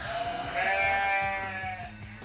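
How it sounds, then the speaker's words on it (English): A single sheep bleats in a drawn-out, wavering baa, clear and close against a faint background. "Did you hear a baaing noise? Can you guess what kind of animal baas like that? That's right, a sheep."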